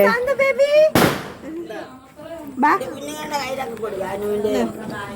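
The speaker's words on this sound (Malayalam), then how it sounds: "പടക്കം പൊട്ടിക്കുന്നില്ലേ" A single firecracker bursts nearby during Vishu festival celebrations, one sharp, loud bang that cuts through lively talking and chatter, which carries on before and after it.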